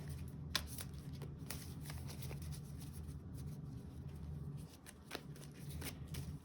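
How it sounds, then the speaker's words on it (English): A deck of cards is shuffled and one card pulled out, a steady close riffle with sharp snaps, over a low constant background hum. "I'm just gonna pull a card"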